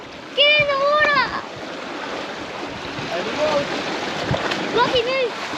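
People leap into the open sea from a sailing boat at an equator-crossing ceremony, water splashing and sloshing amid wind and waves while excited voices shout and cheer over it.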